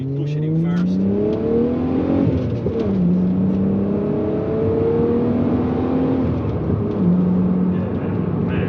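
A Volkswagen Golf MK3 with a VR6 engine revs hard through first gear, its pitch climbing and dropping across several pulls, loud and steady throughout with no talking.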